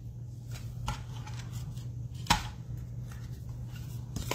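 Scissors slice through thick paper stock in a series of crisp, close snips and rustles, with one sharper cut standing out midway, over a low steady hum.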